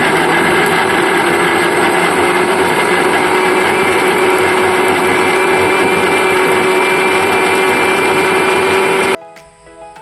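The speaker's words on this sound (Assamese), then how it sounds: "এতিয়া মিক্সাৰ গ্ৰাইণ্ডাৰত দি আমি বিলাহী পেষ্টটো ৰেডি কৰিম" A mixer grinder blends chopped tomatoes into paste, running as a loud, steady whirring motor drone with a constant hum that cuts off abruptly near the end.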